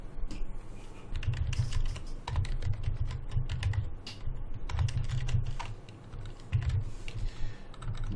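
Someone types code on a computer keyboard while programming a MasterMind game: steady runs of close, crisp key clicks over a low background hum, with no voice.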